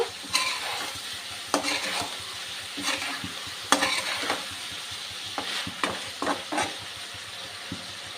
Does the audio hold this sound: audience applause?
no